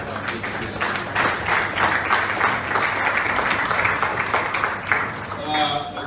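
Audience applause at a town hall meeting, a steady wash of clapping that lasts several seconds at moderate distance, tapering near the end.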